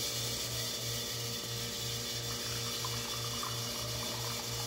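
A La Carimali espresso machine dispenses a double shot into a glass, a steady pump drone with a rhythmic pulsing hum and a thin trickle of coffee running over it, even and continuous throughout.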